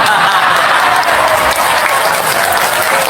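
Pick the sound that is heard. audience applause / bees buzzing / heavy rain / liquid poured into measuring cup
audience applause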